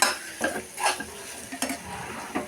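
Chicken pieces coated in chili powder are turned in a hot frying pan, with sizzling and a few distinct scraping stirs of a utensil against the pan, close and fairly quiet.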